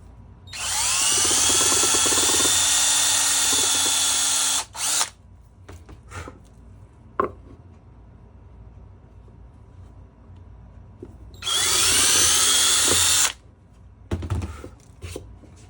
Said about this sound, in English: So I'll pre-drill this hole.